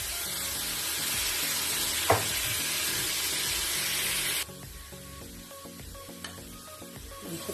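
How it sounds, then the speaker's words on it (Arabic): Chicken for shawarma hits hot corn or olive oil with a loud, continuous sizzle and spattering hiss that suddenly quiets to a softer frying crackle, with a few faint clinks and no voices. "عايزين نسمع صوت الطشه دي."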